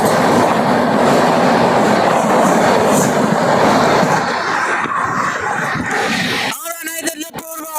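An Indian Railways Purva Express passes close by with a loud, continuous rumble and clickety-clack of wheels, then fades into a quieter, rhythmic rattling as it draws away.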